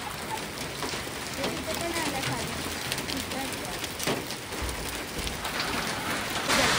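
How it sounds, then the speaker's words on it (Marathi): Hailstones fall steadily onto a road near Shimla, a dense, continuous crackling patter that stays even throughout. "आता तुम्हाला दाखवतो आता बघा ह्या गारा पडतायत रोड भरला"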